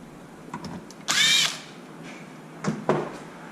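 A power drill whirs in a short burst, close and loud, backing out a small bolt on a Traxxas Wide MAXX 4S RC truck, followed by a few light clicks and clatters of parts being handled.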